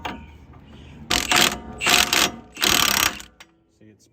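A ratchet wrench turns the bottom strut mount bolt on a 5th-gen Ram 1500 during a lift install: three loud, close bursts of rapid ratchet clicking, each about half a second long, with brief pauses and a faint clank at the end.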